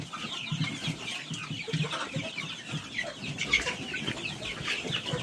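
Young chicks in a cage inside a poultry shed cluck and chirp continuously, close by and fairly busy, with no talking over them.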